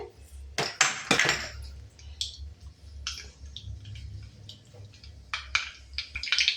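Mustard seeds crackle in hot oil with black pepper in a pan, giving faint, irregular pops and sizzling ticks over a low background hum, with a few louder clustered bursts early on.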